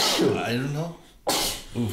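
A single abrupt sneeze bursts out during a relaxed podcast conversation, with people talking just before and after it.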